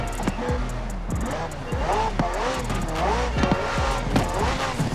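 A McLaren car's engine in the racing game Forza Horizon 4 revs and surges, its pitch rising and falling in waves, with short tire squeals and other engine noise mixed in.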